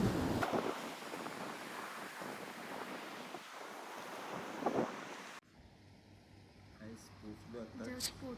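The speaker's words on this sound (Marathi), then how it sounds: "लास्ट मालवणचा समुद्र." Sea surf at Malvan beach rolls in as a broad, wind-buffeted wash, close and fairly loud for several seconds before cutting abruptly to a quieter scene where a person speaks.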